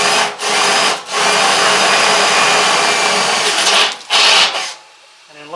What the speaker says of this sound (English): now I'm going to just take my step bit